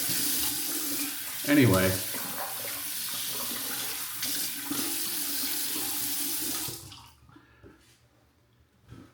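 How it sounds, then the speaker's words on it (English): Tap water runs steadily into a sink as someone rinses their face after shaving, a loud continuous splash for about seven seconds before cutting off, with a brief spoken word near the start. "Let me rinse my face off."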